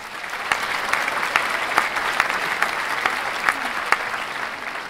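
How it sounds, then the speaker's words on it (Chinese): Audience applause in a hall at a company gathering in Lukang, Taiwan, a steady sustained clapping from a crowd with sharp individual claps standing out throughout. "谢谢大家的掌声。"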